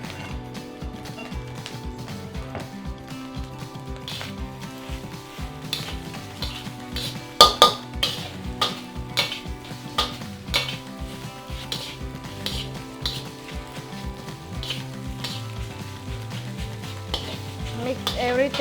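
Fried rice with kale being stirred and tossed in a pan, a steady sizzle with scraping and clattering utensil strokes, loudest around the middle, under background music.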